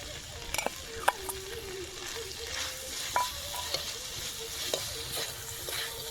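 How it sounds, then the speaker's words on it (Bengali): Spice paste with ground peanut paste being stirred and sautéed in a pan for a village-style vegetarian broad bean curry, a steady low sizzle with occasional scraping clicks of the spoon. "বাদাম বাটাটা দিয়ে ভালোভাবে কষাতে হবে"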